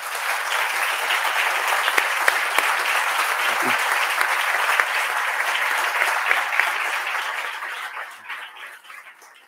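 An audience at a cultural lecture on bullfighting gives sustained, dense applause at close range, holding steady for several seconds before thinning out and fading near the end.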